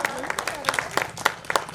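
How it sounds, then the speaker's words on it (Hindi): Scattered handclaps from an audience welcoming a woman at a public gathering in Hindi, brief and fairly sparse, with voices talking over them. "इसे तालियों से स्वागत मैडम का।"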